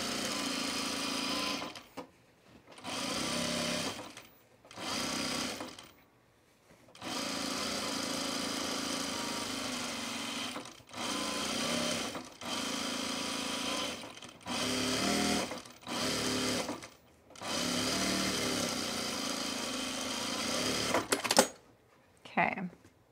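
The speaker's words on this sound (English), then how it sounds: "I'm just going to sew around the edge a quarter inch." Sewing machine running around the edge of a baby bag at a quarter inch, close steady whirring bursts of a few seconds each separated by short pauses, repeating many times.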